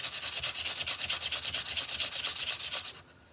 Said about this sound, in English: So you want to make sure that you're sanding in different directions also.